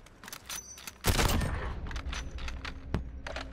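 Bursts of rapid machine gun fire in a video game, a loud crackling volley followed by scattered shorter bursts and a lone sharp shot, all close.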